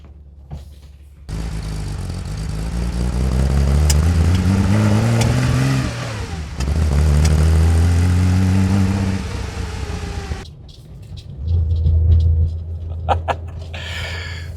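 A Porsche 911-T engine idles and revs while warming up, a loud, close mechanical drone that rises and falls in two long sustained bursts, dropping away briefly before a final shorter surge.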